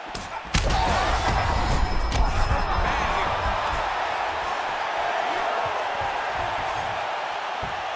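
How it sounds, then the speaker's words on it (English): A large crowd in a UFC 5 video game fight roars in a continuous, dense wash of noise after a sharp thump, sustained and fairly loud throughout. "And you hear the crowd react."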